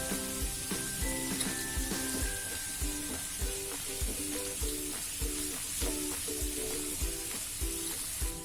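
Radish and green chili sambharo sizzles steadily in a pan, with a regular scrape of stirring against the metal and a few faint clinks, close and continuous with no talking.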